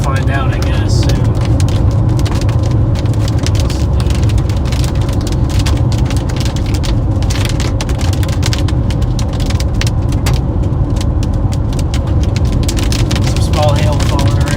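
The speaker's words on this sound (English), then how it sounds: "Some small hail falling around" Small hail and rain pelting a car in a Texas storm, a dense continuous patter of impacts, loud and close throughout, with a voice speaking over it.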